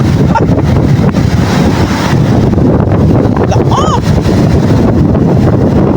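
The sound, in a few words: strong waves and wind at sea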